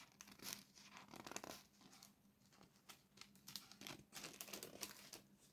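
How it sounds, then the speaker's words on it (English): Paper pages turned and crinkled close by, in a string of rustling, crackling bursts with short pauses between them, with no voice over them. "Oops, trouble turning pages today"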